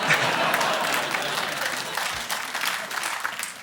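Studio audience applause on a comedy panel show, a dense sustained wash of many hands clapping that holds steady at moderate loudness and tapers slightly toward the end.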